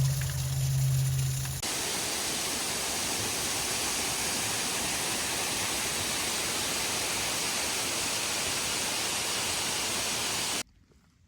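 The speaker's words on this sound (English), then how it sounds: "Got this little waterfall right here." A small waterfall on a mountain trail in the Smokies pours steadily, a loud, close, broadband rush that holds constant for about nine seconds after a brief lower opening, then cuts off.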